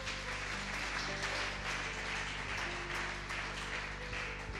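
A church congregation applauds and cheers for Jesus, sustained clapping that fills the room steadily, with a low musical hum underneath.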